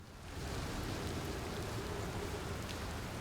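Steady, even hiss of rain falling continuously in the game Outer Wilds, soft and unbroken, with no voices.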